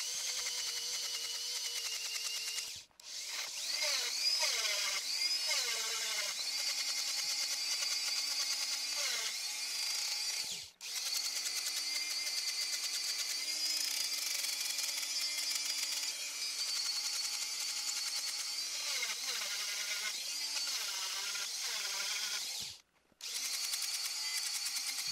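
A handheld rotary tool grinds and rounds the edges of carbon fiber rings, a steady high whine with shifting pitch, broken by two brief stops, close and continuous without talk.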